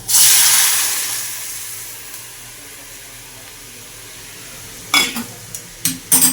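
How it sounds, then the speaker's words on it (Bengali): Cooked dal, boiled with potato and tomato, poured into a hot tempering of cumin and onion: a loud hiss and sizzle at the start that fades over about two seconds, then quieter stirring and a few clattering knocks near the end. "এবার এই ডালটাকে দিয়ে দেবো।"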